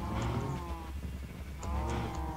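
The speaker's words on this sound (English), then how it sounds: "The synchronized screaming of the cows." Several Minecraft cows lowing together in overlapping, drawn-out moos, steady and fairly loud, with a second swell of calls near the end.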